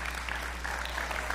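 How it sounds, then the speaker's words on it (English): Audience clapping at a First Assembly church gathering, a steady patter of many hands held at moderate level under a low constant hum for the whole short stretch. "clap, come on."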